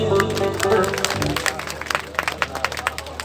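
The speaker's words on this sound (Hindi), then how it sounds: "एक बार हमारे बच्चों के लिए तालियां तो बजाओ।" An audience at a village gathering claps for the children, a dense burst of applause that thins into scattered claps, with a voice speaking over the start.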